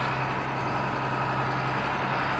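A John Deere tractor engine runs steadily during spring field work, a continuous loud low drone with constant rumble and no breaks, heard close up with no voices.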